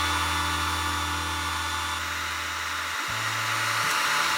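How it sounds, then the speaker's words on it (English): A heat gun on its high setting blows steadily while heating a motorcycle fork leg to free stuck seals, a loud constant whooshing drone that shifts pitch briefly near the end. "We've got our heat gun on high"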